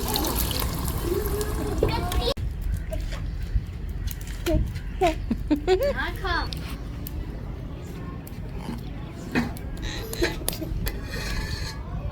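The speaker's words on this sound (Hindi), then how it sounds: "दाल की भुनाई हो चुकी है तो हस्बे ज़रूरत पानी शामिल कर रही हूँ उसको गलाने के लिए" Water is poured into roasted lentils (dal) in a pot for cooking, a continuous splashing pour under kitchen clatter and a faint voice, then softer trickling and bubbling.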